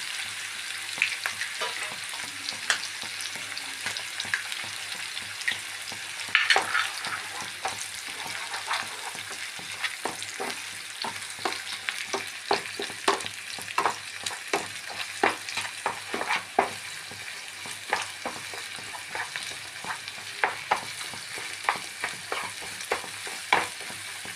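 Two eggs fry in a hot pan while being stirred and broken up, a continuous sizzle punctuated by frequent sharp scraping strokes of a spatula, close and with no voices.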